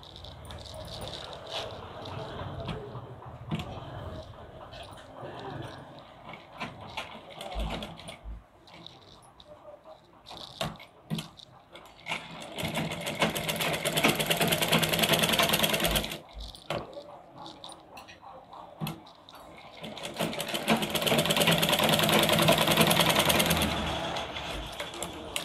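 A sewing machine double-stitching the seam of a choli cut blouse runs in long loud whirring bursts separated by pauses, with someone talking softly in the quieter stretches.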